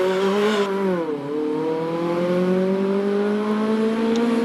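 A much-modified hardtop Mazda MX-5 hill climb race car is heard close by on a dry track, its engine note falling as it lifts for a bend and then climbing again as it pulls hard through the esses.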